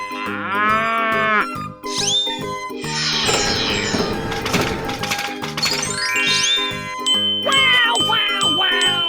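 A cartoon cow moos in a 3D animal slide game, the call loud and close, set against bright game music and chiming effects that play on throughout.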